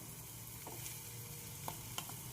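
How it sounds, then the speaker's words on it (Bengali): Poppy seed paste hitting a hot pan gives a soft, faint, steady sizzle with a couple of small clicks of stirring, quiet and close, with no voices. "এবার এই পোস্ত দেবো"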